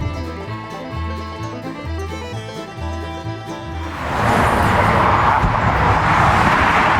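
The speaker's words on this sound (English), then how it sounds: "But no, I'm driving in a Kia." Steady road and engine rumble inside a moving Kia car, rising into a louder broadband wash of tire and wind noise partway through, with background music early on.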